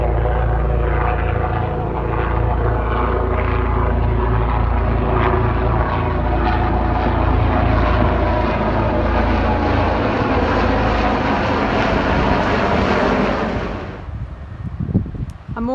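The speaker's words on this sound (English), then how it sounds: "Oh, I hear a helicopter coming." A Coast Guard helicopter flies over a rocky coastal headland, its loud, steady engine and rotor roar filling the air for many seconds before it suddenly drops away and fades near the end.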